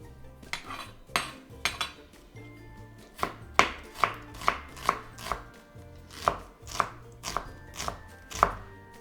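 Sharp knife chopping onion on a cutting board, a steady run of crisp, close taps in uneven rhythm, some quicker pairs and some spaced apart, with no talking.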